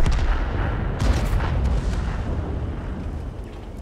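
A tank cannon firing in the World of Tanks video game, one heavy booming blast that rolls into a long rumbling decay over several seconds, loud and close with no voice over it.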